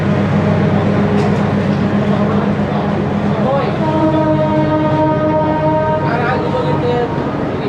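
The Chitra Express pulls away from Airport station toward Kamalapur, its loud rumbling wheels and clatter close by, with a sustained horn-like tone rising partway through and someone talking over the noise.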